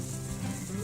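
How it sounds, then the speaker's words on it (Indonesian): Ngohiong shrimp rolls going into hot cooking oil, giving a steady, close sizzle and bubbling hiss that carries on without a break through the short moment. "Nah ini minyaknya udah panas Kak, bisa langsung kita masukkan ke dalam minyak goreng"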